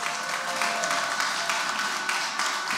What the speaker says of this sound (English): Let's give our senior pastor a big round of applause.